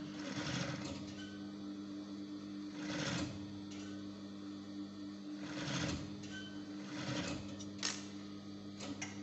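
A furrier's sewing machine stitches pieces of fur together with a quiet, steady mechanical hum and rhythmic ticking, swelling in short bursts of stitching close by.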